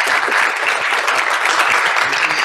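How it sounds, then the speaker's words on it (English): An audience at a university engineering program event applauds speakers, giving dense, steady clapping that stays loud and even for the whole stretch. "Let's have a round of applause for Amy, Bill, and Kathy"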